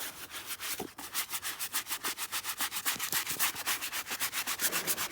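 A medium brush scrubs suede Jordan sneakers in fast, steady back-and-forth strokes, a close, continuous rhythmic rasping with no talking.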